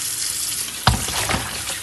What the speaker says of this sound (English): wash it thoroughly until there's no blood in the water